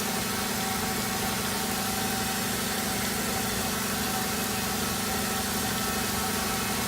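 A pressure washer sprays steadily against the back of a weld during a leak test on a small passenger vessel, giving a continuous broadband hiss with a low engine-like drone underneath, even and unbroken throughout.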